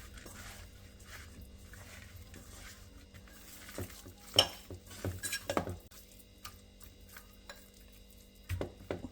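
Raw fish being mixed by hand with turmeric, ginger garlic paste and oil in a village kitchen: soft squelching and scattered clinks of a metal bowl and utensils, fairly quiet and close.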